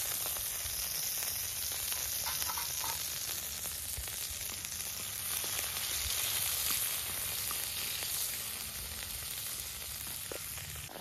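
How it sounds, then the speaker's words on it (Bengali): Garlic sizzles steadily in hot oil in a pan, a continuous crackling hiss with faint stirring scrapes and no speech throughout. "রসুনটা ভাজা ভাজা হয়ে গেছে,"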